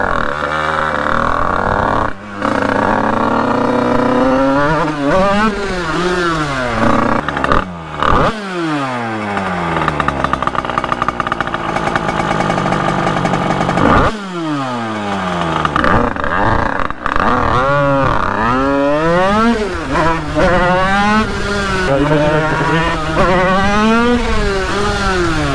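A 50cc moped engine with a freshly changed carburetor jet revs loud and close in repeated rising and falling bursts, with brief drops to idle between the pulls.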